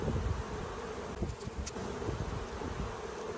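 Honey bees swarm around an opened hive during a honey harvest, a dense continuous close buzz with some brief louder passes near the microphone and no talk.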